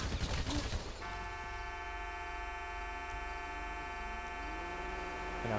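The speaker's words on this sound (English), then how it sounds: "And now he honks continuously." A vehicle horn blares in one long continuous honk, loud and steady for several seconds after a brief burst of mixed noise at the start.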